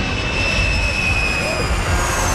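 Jet airliner engine in archival news footage of the plane carrying the President's bubble-top limousine, a steady loud whine with high tones over rumble, heard alone.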